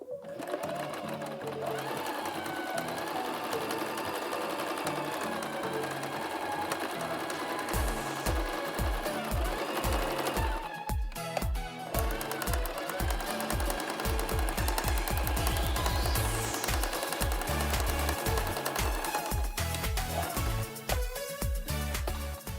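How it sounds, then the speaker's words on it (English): A sewing machine runs a single stitch along a fabric curve, a loud, close, continuous mechanical whir with rapid needle thumps that speed up and slow down, briefly pausing midway. "we're going to run a single stitch along this curve on these 2 pieces and also on these 2 pieces as well."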